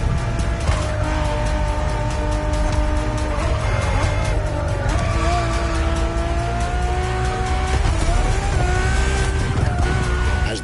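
A Ferrari Enzo supercar engine in The Crew Motorfest racing game, loud and sustained, with the pitch climbing and shifting through gear changes, plus tire squeal.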